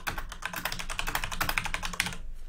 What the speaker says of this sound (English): now I'm going to type on the CMstorm.